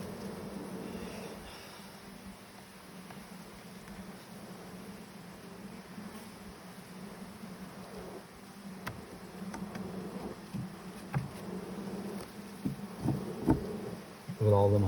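Agitated honeybees buzz around an open hive during an inspection, a steady, close droning swarm that swells louder toward the end, with faint voices in the background.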